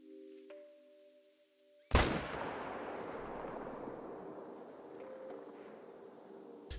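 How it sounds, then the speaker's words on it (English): A single sharp M1 rifle shot rings out in a hunting video game during a gemsbok hunt, then a long echoing tail decays slowly over several seconds. Faint tonal game sounds sit quietly before and after. "Did I just shoot that with the M1?"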